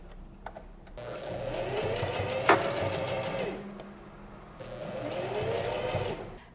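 Sewing machine running the final straight seam on a dish towel ruffle: two bursts of steady motor whirring with a brief pause between, close and clear, without speech.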